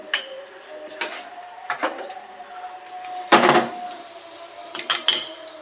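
Onion fries in oil in a pan as ginger garlic paste goes in, with a faint steady sizzle under a series of sharp metal clinks and scrapes of a utensil against the cookware, one louder clattering burst midway.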